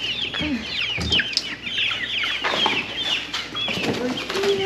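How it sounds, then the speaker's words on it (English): Young chickens clucking and chirping in a busy cluster close by, with scattered wing flaps and shuffling as they are about to be moved into a new home. "Here's the little chickens right before we put them in."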